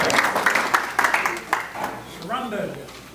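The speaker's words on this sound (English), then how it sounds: "let's give her a round of applause" Audience applause welcomes a speaker to the stage: a burst of scattered clapping that fades after a couple of seconds, with a voice speaking briefly near the end.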